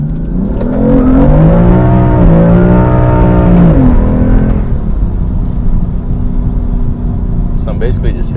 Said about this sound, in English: So I'm basically just hitting the gas